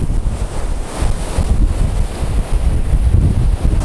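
Stormy sea waves crashing on rocks in strong wind on the Crimean coast near Simeiz and Mount Koshka, a continuous loud roar of surf with heavy wind buffeting the microphone.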